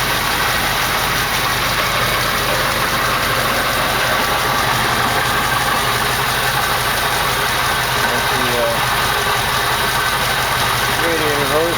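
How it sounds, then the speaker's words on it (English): Close-up steady idle of a 1968 AMX engine, its power steering pump rattling beneath the continuous rumble for the whole stretch. "That power steering pump is rattling."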